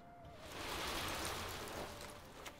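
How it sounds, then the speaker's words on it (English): Torrential Rain weather effect in the card game Gwent, a brief burst of heavy rain hiss swelling and fading, soft and steady. "Torrential Rain."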